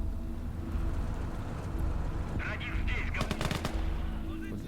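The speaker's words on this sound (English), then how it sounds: "So I think these are all machine guns." Machine guns fire in the World War II game Call to Arms: Gates of Hell, Ostfront, in a USSR versus Germany battle with T-35 and KV-1 tanks. Rapid bursts rattle over a constant roar of battle noise.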